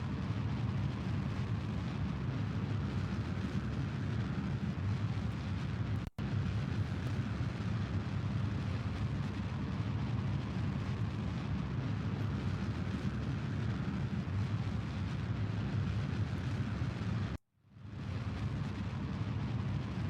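Rocket engine thrust in Kerbal Space Program: a steady, loud low roar that holds for about twenty seconds, broken by two brief dropouts, with no talk over it.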